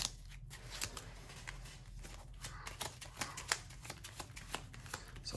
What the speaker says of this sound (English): So shuffling my deck.